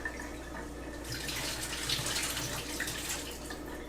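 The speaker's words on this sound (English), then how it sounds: "So you do have to rinse it well. Okay. Rinse it in the water." Water runs from a tap while quinoa is rinsed in a kitchen, a soft steady hiss with light splashing, fairly quiet and with no talking.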